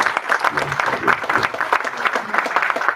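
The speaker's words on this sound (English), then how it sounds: "So, ladies and gentlemen, let's give a round of applause." Guests at a cancer hospital's 10th anniversary celebration clap steadily, a lively, fairly close round of applause with faint voices mixed into the crowd noise.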